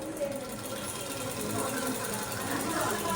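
A sewing machine stitches a visiri-style sleeve, giving a steady, continuous whirring hum that holds an even level from start to finish.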